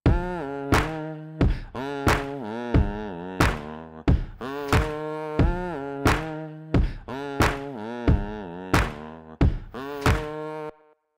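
Drum loop layered with a chopped vocal loop in Ableton Live, playing as a steady repeating pattern of punchy hits and tonal vocal stabs, loud and alone with no talking.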